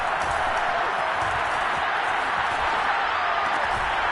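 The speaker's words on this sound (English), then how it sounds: "The crowd getting into it as we come up on a big 3rd down." A large football stadium crowd roars steadily and loudly ahead of a big third down, a dense continuous wash of cheering with no breaks.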